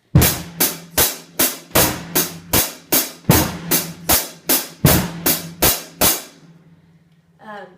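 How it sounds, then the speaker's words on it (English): Drum kit beat with the bass drum on beats one and three under a steady hi-hat, about a dozen crisp, evenly spaced hits over a low sustained ring, then fading to a short soft rustle at the end. "you can hit the bass drum and the hi-hat cymbal at the same time"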